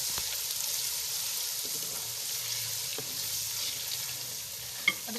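Ginger garlic paste fries in a pot after lightly browned onions, giving a steady, close hiss and sizzle that runs throughout, with a faint stir and a brief clink near the end.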